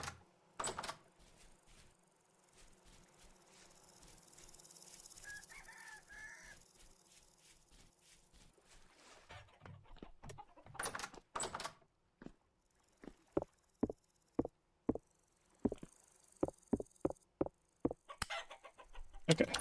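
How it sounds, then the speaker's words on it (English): Rooster and chickens in a farming video game, scattered clucks and crowing calls that grow into a rapid run of sharp, evenly spaced bursts over faint background sounds. "Okay, this time we got the rooster."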